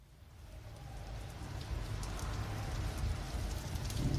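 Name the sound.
rain sound effect at start of a song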